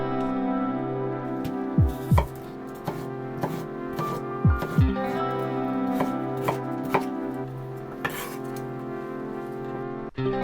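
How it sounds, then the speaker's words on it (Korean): Carrots and potatoes chopped with a knife on a cutting board for an oatmeal cream chowder, a series of firm, irregular chops and knocks close up over a steady low hum, with no talk. "당근도 손 조심조심 하면서 같은 크기로 잘라주세요."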